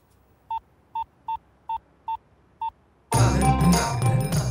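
Six short, evenly spaced beeping tones of telephone keypad dialing, followed by a sudden burst of loud, dense noise.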